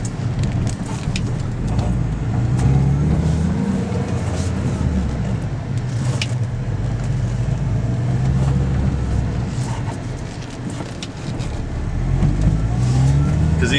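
A 2006 Mini Cooper S swings through a quick U-turn on a main road, its engine rising and falling under steady cabin and road rumble, with brief bursts of revving near the start and end.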